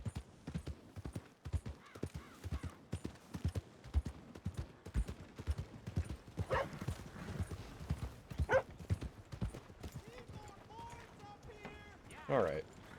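Horse hooves clip-clop steadily while riding through the muddy frontier town of Valentine in the video game Red Dead Redemption 2, a regular trotting rhythm running under frequent talking with brief brighter clinks.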